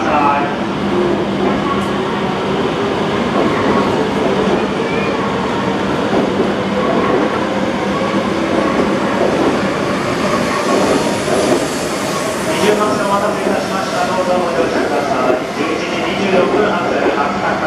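A Hokkaido Shinkansen H5 series Hayabusa train rumbles steadily out of Tokyo Station, a dense continuous roar of wheels and rails with occasional squeals, and faint voices underneath.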